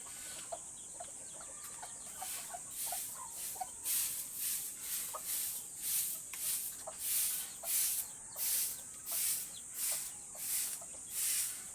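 Rhythmic broom strokes sweep the ground of a chicken-raising area in a steady, repeated swish, each stroke a bristly scrape, with chickens clucking faintly in the background.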